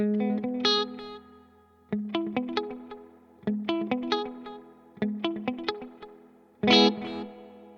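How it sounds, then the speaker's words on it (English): Guitar played through the echo tank effect of a Fender Tone Master Pro, with other pedals off: short plucked chord phrases come in several bursts, each note trailing into soft repeating decays, ending in one louder strummed chord. "then we kick in the echo tank and turn off the other pedals"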